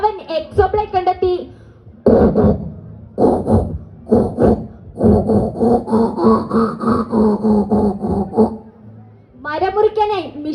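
A voice imitates a wood-cutting machine: close, loud buzzing and rasping saw-like bursts that rise and cut off, framed by hummed, tonal vocal sounds at the start and end.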